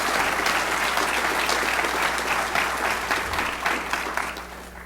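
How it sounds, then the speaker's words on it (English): An audience at a political event claps steadily for the vendors, a dense, even round of applause from a sizable crowd that holds for several seconds and then slowly thins. "let's give them a round of applause"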